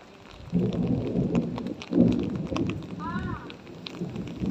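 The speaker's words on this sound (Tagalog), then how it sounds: "Wow, may kulog pa." Low, rolling thunder rumbles in two swells over steady rain in Bahrain, with a voice speaking nearby.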